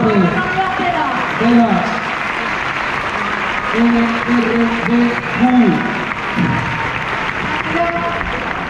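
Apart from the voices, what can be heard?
crowd applause for police guide dogs and bomb squad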